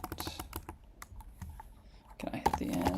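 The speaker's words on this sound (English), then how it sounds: "It's hard to go back to typing on this keyboard." Rapid typing on a computer keyboard during a coding session, irregular clusters of crisp key clicks close to the microphone, with a denser burst of keystrokes near the end.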